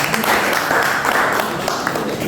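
An audience at a tenth-anniversary commemoration ceremony applauds the award recipients, with steady dense clapping throughout that is loud and close, with no pauses and no voices on top.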